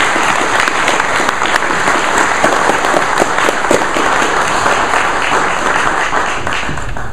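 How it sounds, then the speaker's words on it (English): Loud, close applause from attendees at the closing of an event, a thick, continuous burst of clapping with sharp individual claps standing out, steady throughout. "Give you all a good applause."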